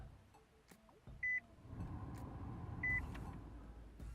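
A 2016 Nissan Leaf SV powers on with two short electronic chimes, one early and one near the end, over a low cabin hum.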